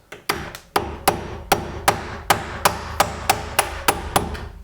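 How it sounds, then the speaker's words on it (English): A hammer strikes a screwdriver to drive the pin out of a middle door hinge, about a dozen sharp metallic taps in an even, steady rhythm, close and loud with nothing else heard. "With a screwdriver and a hammer, I'm going to pop the pin out of the middle hinge here"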